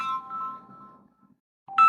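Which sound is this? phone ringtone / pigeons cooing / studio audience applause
phone ringtone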